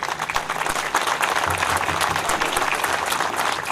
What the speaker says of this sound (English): I'd like to have a special round of applause for these two gentlemen before they speak